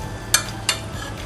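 Garlic sautés in oil in a pan, a low steady sizzle broken by two quick scraping stirs of a spoon, close and fairly loud, with no talking.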